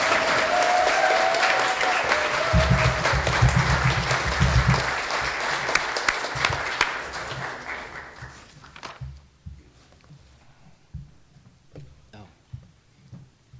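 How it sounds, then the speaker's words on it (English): Sustained audience applause at a Unitarian fellowship service, dense and loud from the start and tapering into scattered claps and small room noises toward the end. "So could we give her a round of applause?"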